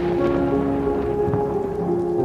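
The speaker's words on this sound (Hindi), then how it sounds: "बारिश अब और तेज हो चुकी थी।" Heavy rain pours steadily, a dense, constant hiss of drops drumming on a surface, with a low hum underneath.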